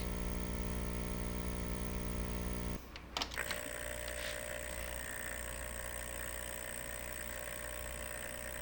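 A Hygger 10W aquarium air pump runs with a steady tonal mechanical hum. It shifts abruptly after a brief clunk a few seconds in, then keeps humming evenly close to the microphone.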